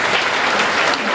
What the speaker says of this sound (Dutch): Een applaus voor Kalune de 56e en Erika de 37e.